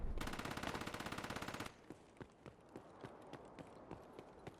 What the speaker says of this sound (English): That sounds a little bit like the PPSH 41.